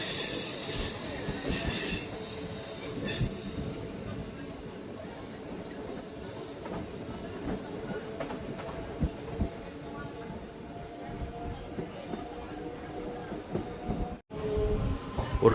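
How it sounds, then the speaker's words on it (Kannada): A Hubballi–Arasikere MEMU train rolls into Kundgol railway station, its wheels squealing and rumbling steadily as heard from on board, with a voice talking over the noise. "ಫ್ರೆಂಡ್ಸ್, ನಮ್ಮ ಟ್ರೈನ್ ಈಗ ಎಂಟ್ರಿ ಆಗ್ತಿದೆ ಕುಂದಗೋಳ ರೈಲ್ವೆ ಸ್ಟೇಷನ್ಗೆ."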